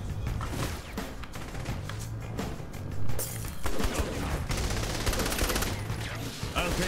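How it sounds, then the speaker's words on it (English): Minigun and gunfire in a Saints Row the Third co-op shootout, rapid dense bursts of shots rattling over background game noise, with voices talking at times. "He's shooting me with his minigun, mate."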